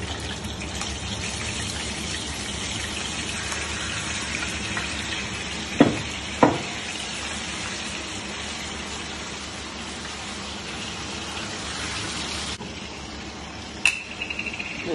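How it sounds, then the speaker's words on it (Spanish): Chopped chicken and wings frying in a paella pan, a soft continuous sizzle close by, broken by a few sharp clatters of utensils against the pan. "Ahora vamos a meter el pollo cortado y lo vamos a freír con las alitas."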